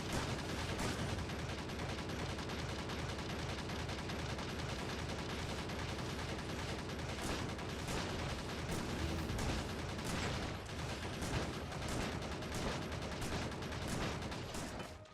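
Shotguns fire over and over in Factorio as the player fights, with sharp blasts spaced through a constant mechanical clatter of machinery. The whole fifteen seconds sits at a steady, moderate level.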